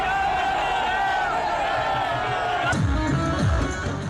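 A large crowd at Bageshwar Dham welcoming Dhirendra Shastri with a steady roar of voices and cheers, then heavy low thumps of dhol drums breaking in near the end.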